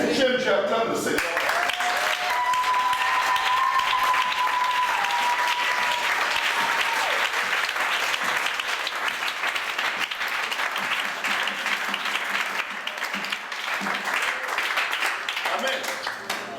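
Sustained loud applause from a church congregation during a sermon, steady clapping from a large crowd with a voice and a held tone rising over it early on.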